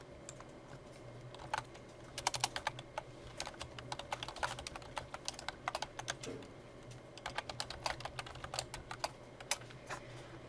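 Close-up typing on a computer keyboard during a classroom lecture, irregular bursts of quick key clicks with short pauses, over a low steady hum.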